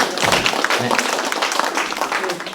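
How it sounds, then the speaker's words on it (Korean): Steady applause from an audience in a lecture hall welcoming someone about to ask a question, dense clapping that runs throughout with voices mixed in underneath. "박수로 맞으세요"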